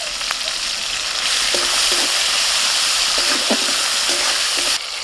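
Chopped tomato dropped into hot oil with a bay leaf and whole cumin tempering, giving a loud, continuous close sizzle with a few stirring scrapes.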